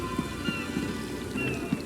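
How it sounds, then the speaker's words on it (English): Rain falls steadily during a storm in the Elder Scrolls Online video game. It is a constant close hiss of drops hitting surfaces, with soft low thumps recurring underneath. "What's going on with the storm?"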